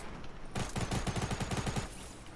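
Rapid automatic gunfire in Fortnite, a close burst of about a dozen evenly spaced shots lasting over a second with no talk.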